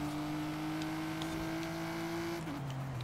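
A car engine in Forza Horizon 5 holds a steady drone at constant revs, close and fairly loud, then the pitch drops as it shifts or eases off near the end.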